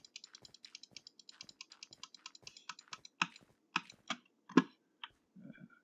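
Rapid clicking of a computer keyboard during a live cancer-fundraiser stream, a steady run of light key taps that turns into sparser, heavier strokes near the end, close and alone without talk.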